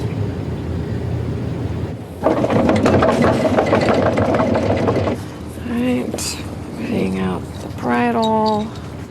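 Sailboat engine idling in reverse while anchoring in shallow water, a steady low mechanical hum running throughout, rising slightly in the middle, with people talking over it toward the end.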